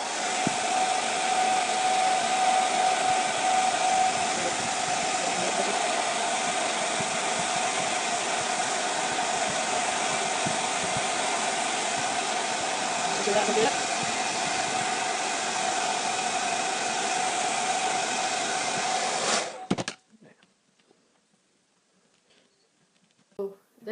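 A hair dryer blows in a steady, loud whoosh for about twenty seconds while gently heating a decoupage candle, then cuts off abruptly, leaving near silence.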